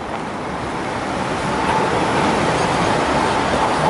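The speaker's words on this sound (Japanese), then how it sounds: "あちらもチンチン電車もある。" A broad, steady rumble of a streetcar passing through the Susukino nightlife district fills the clip, loud and continuous, growing slightly heavier partway through.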